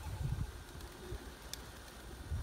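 Soft cooing and shuffling from a loft housing just over 500 pigeons, low murmuring coos rising now and then over quiet background hiss, with a brief faint chirp midway.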